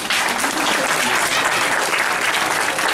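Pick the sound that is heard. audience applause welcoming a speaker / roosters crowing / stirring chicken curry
audience applause welcoming a speaker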